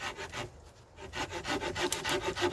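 A hand saw cuts a fallen pine log into firewood in an autumn forest campsite, close up, with a steady rhythm of rasping back-and-forth strokes and no talk.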